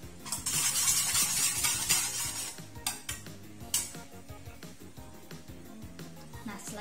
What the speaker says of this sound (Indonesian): Aduk sudah sampai merata.